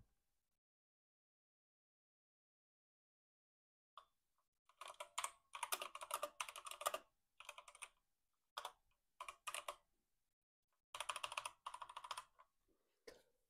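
Someone types on a compact 60% computer keyboard in bursts of clicky keystrokes separated by pauses, close and fairly quiet in an otherwise silent room.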